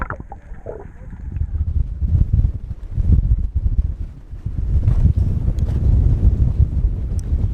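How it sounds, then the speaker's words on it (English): Strong wind buffets the microphone in heavy, rumbling gusts, with water sloshing faintly underneath. "It's been really windy here the last couple of days"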